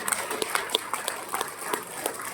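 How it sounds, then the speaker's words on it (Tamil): Applause from an audience at a Malaysian political party gathering, scattered and fairly faint claps with uneven rhythm, a handful of sharper hand hits standing out over a soft crowd bed. "ஒரு பெரிய கைத்தட்டு கொடுங்க"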